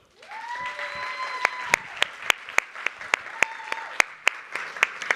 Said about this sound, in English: please join me with a reverberating round of applause for Lebogang Letsoalo